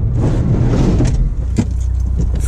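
2015 Subaru WRX with a MAPerformance Stage 1 tune accelerating hard: a loud, continuous engine and road roar from inside the cabin, with brief rattles and a short dip partway through.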